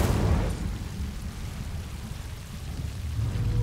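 The Incendio fire spell is cast in the video game Hogwarts Legacy, a sudden rushing burst that settles into a low, rumbling roar of flame, fairly loud and with no voices.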